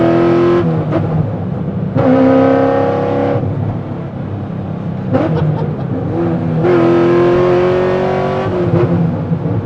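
A nitrous-equipped, naturally aspirated 800-horsepower Corvette V8 revs hard and loud, its roar rising and falling in repeated surges, with sharp exhaust pops and crackles between the throttle blips.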